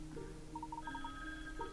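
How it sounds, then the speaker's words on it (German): Telephone ringing in the Layton's Mystery Journey video game: a soft, quiet electronic ring with repeated short tonal pulses, heard alone. "Oh, das Telefon."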